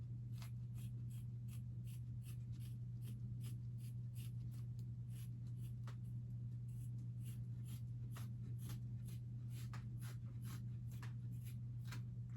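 Scissors snip repeatedly through hockey stick tape in quick, evenly spaced cuts over a steady low indoor hum, close and fairly quiet.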